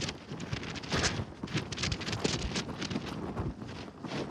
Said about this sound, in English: Wind is relentless.